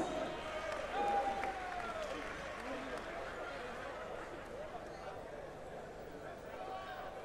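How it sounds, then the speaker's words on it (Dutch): A crowd applauds the fighters after a 2003 kickboxing bout between Samir Ben Azzouz and Harry Hooft. The steady clapping and cheering fills the hall, while an announcer speaks over the applause. "En ook natuurlijk een hartelijk applaus voor de tegenstander Harry Hoofd."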